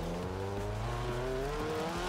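A rear-wheel-drive car in Forza Horizon 4 revs hard through a drift zone, its engine note climbing in steady harmonic tones while tires squeal continuously underneath, loud and close for the whole stretch.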